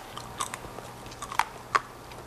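A crunchy rice snack is bitten and chewed close up, giving a few sharp, brittle crunches spaced irregularly over a quiet background.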